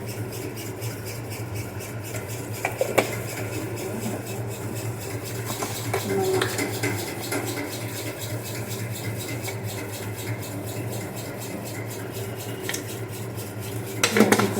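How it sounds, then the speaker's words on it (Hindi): Ingredients mixed in a pot, with a utensil scraping and clinking against metal in irregular taps that grow busier toward the end, over a low steady hum and faint background voices. "सारी चीज़ें मिक्स करके अच्छे से"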